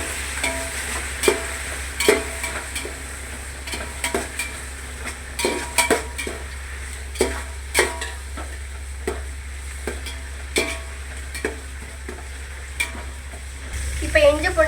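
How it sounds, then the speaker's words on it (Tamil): Vegetable biryani masala stirred and fried over a low flame, with a steady soft sizzle and repeated scraping stirs at an irregular rhythm, close and moderately loud, no talking. "தீயாத அளவுக்கு நம்ம சிம்மிலே வச்சு நம்ம கிண்டி விட்டுணும்"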